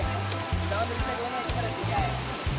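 A large, clear river in a Konkan village rushes with a steady, even wash of flowing water. Low murmuring voices sit underneath.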